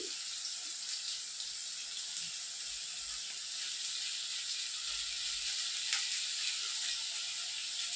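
Eggplant frying in oil gives a steady, moderate hiss of sizzling, even and continuous throughout, with a few faint low knocks and no voice.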